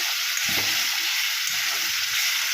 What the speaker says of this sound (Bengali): পেঁয়াজ আর টমেটোটা ভাজা হয়ে গেছে